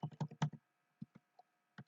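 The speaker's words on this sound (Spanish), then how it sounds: "voy a borrar esto y a ver si lo puedo escribir con el teclado" Keys clatter on a computer keyboard, a quick burst of five or six close clicks followed by a few scattered single keystrokes, loud against a quiet room with a faint electrical hum.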